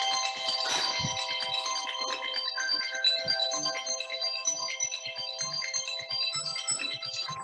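A phone ringtone plays a bright electronic melody of repeating tones, loud and continuous, with faint voices and stirring underneath.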